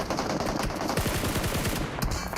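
Rapid bursts of gunfire in PUBG Mobile during an esports scrim match, dense overlapping automatic shots with sharp rhythmic cracks, loud and continuous over a noisy background.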